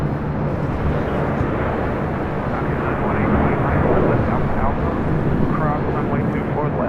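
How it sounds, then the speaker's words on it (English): A Virgin Atlantic Airbus A350-1000 arrives at LAX, a loud broad engine roar that swells slightly and holds through the clip, with faint radio chatter beneath it. "So we do have Virgin Atlantic Flight 7, the A350-1000 up next for arrival."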